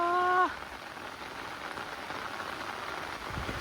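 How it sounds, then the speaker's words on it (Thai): Steady rain patters on a surface, a soft continuous hiss with a brief tonal chirp at the very start. "ฝนน่ะตกงามอีหลีป้า"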